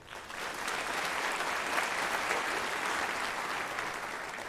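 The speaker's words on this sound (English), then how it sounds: "Let's take a moment to applaud the distinguished students from the College of Education." Audience at a university honors convocation applauding students, a steady wash of clapping from a large crowd that swells and then gently tapers off.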